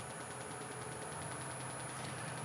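A wood lathe spins a mulberry bowl at about 600 RPM, giving a steady, continuous motor hum with an even mechanical drone and a faint high whine, constant and unbroken throughout with no talk.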